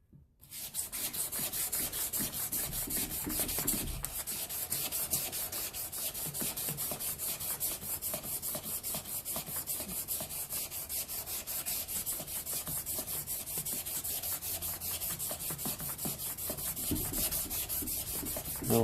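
An aluminum part is sanded by hand with abrasive grit, giving a faint, continuous scratchy rubbing in quick back-and-forth strokes that runs steadily for almost twenty seconds, with no voices.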